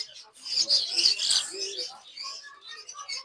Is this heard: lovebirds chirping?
yes